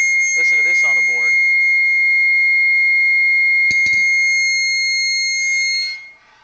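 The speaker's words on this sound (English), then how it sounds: "Just an aluminum rod. It's really loud." A struck aluminum rod rings loudly with a sustained, piercing metallic tone that decays slowly over several seconds after a sharp strike midway, with a voice speaking briefly at the start.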